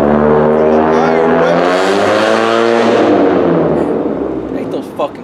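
A loud car passes close with a rising, then falling engine tone, its roar fading after the pass.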